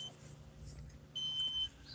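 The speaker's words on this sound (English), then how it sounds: "I do apologize for the beep." An electronic beep sounds once for about half a second, a thin steady tone standing above a quiet, hissy room background with no talk.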